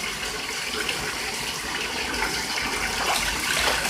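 Continuous splashing and running water from a pet goose in a bathtub, a steady broadband wash that grows slightly louder toward the end, with no voices.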